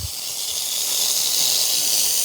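A Shark steam cleaner fires a short burst through its Steam Blaster nozzle: a loud, steady, close-up hiss with a faint low rumble beneath.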